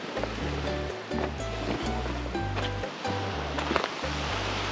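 Sea waves wash onto Kato Zakros beach in Crete in a continuous broad hiss of surf, joined by a low pulsing rumble and a few brief clicks, with no voices present.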